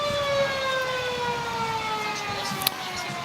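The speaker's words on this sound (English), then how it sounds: "You hear those sirens." A distant wailing siren at a Memorial Day parade slowly falls in pitch, steady and moderately loud, with a brief sharp click near the end.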